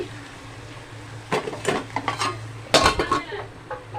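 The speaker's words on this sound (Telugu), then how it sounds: "కాకరకాయ కూర అయితే పెట్టింది మమ్మీ సో ఉడుకుతుంది" Bitter gourd curry cooks in a pot in a home kitchen, with clinking metal utensils, scraping stirs and light clatter against the pan in short bursts over a soft steady background hum.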